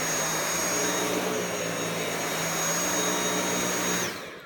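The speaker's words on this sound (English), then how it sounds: "There's really no competition for a Dyson stick vac whatsoever." A Dyson V8 Absolute cordless stick vacuum runs with a loud, steady high-pitched whine and airy roar, then powers down and fades at the end.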